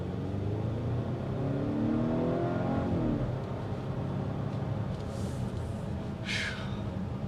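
Engine of a 2022 Volvo S90 sedan building revs as the car accelerates, a steady rising drone over road noise, with a brief hiss near the end.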